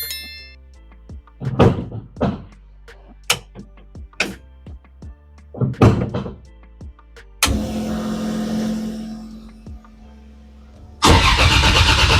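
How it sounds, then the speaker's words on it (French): A Mazda RX8 without its exhaust fitted cranks in several short bursts before the engine catches and runs, rising to a loud, raw roar at the end. "Maintenant que tout est monté, on va démarrer la voiture"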